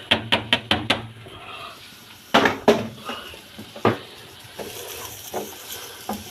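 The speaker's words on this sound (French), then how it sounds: "Là, la poêle est chaude, donc ça va aller très très vite. Et là, je rajoute" Shallots tossed into a hot frying pan for spaghetti with smoked salmon: a quick run of sharp metallic clinks and knocks, then a louder clatter and soft sizzling hiss with scattered pan taps, close and without talk.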